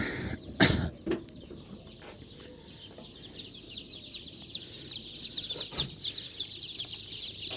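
A chorus of tiny high-pitched chirps from newly hatched Andijan black chicks leaving an incubator peeps continuously and fairly close, with a couple of louder knocks or coughs near the start.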